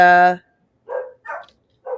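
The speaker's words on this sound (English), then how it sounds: "okay, there's the dogs. They say hi." Dogs barking in a home, several short, sharp barks spaced apart after a brief burst of nearby speech, fairly close and clear.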